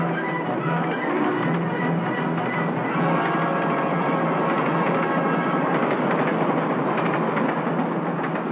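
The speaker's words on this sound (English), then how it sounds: "a train passes" A 1942 freight or passenger train, engine 1404 hauling 13 cars, rolls steadily past at close range, a continuous loud rumble with rhythmic clickety-clack of wheels over rail joints and metallic rattling throughout, no voices.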